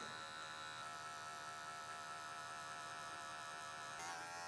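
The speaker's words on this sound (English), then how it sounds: "every time I'm going in with this clipper, I'm angling the clipper to just behind the ear" An electric hair clipper buzzes steadily and close by while cutting a curly mullet behind the ear, a continuous hum with no speech.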